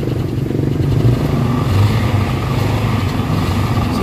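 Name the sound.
Toyota Avanza engine revving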